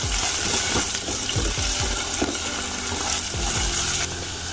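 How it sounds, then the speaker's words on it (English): Chopped garlic and onion sizzle loudly in hot olive oil in a cooking pan, a steady bright hiss under scattered scraping of a spoon stirring, close and continuous. "Take a cooking pan. Add olive oil. Add chopped garlic. Add chopped onion."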